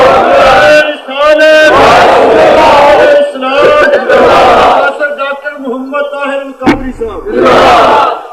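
A crowd at a religious gathering chanting slogans with a preacher's name, loud, rhythmic call-and-response shouts from many voices, repeated bursts separated by brief pauses.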